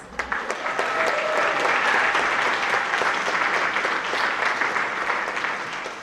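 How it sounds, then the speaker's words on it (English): Sustained applause from a sizable crowd at a high school National Honor Society induction ceremony, steady clapping that swells early and holds throughout, fading slightly at the end. "That's worthy of an applause."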